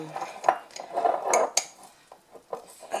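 A metal utensil scraping and clinking against a container while cutting into hard, solid coconut oil, a few close, uneven scrapes and taps with short pauses between them.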